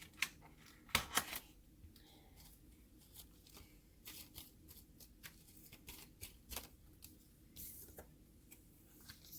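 Tarot advice cards are shuffled close up in quick, soft riffling bursts and flicks, a light, papery, repeated rhythm in a quiet room.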